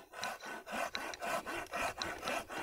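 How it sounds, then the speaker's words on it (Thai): A Tajima G-Saw 210 folding hand saw cuts through a branch about 4 inches in diameter with a steady back-and-forth rasp, about ten strokes in a regular rhythm, close and fairly quiet. "ก็จะลองเลื่อยไม้เป็นขนาดเส้นผ่าศูนย์กลางประมาณ4นิ้วนะครับ"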